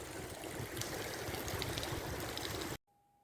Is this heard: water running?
yes